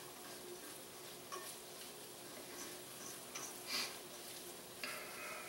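Flour-and-fat roux cooks in a pan on the stove, giving a steady soft sizzle with faint scraping and occasional light clinks of a utensil stirring it, fairly quiet and without speech.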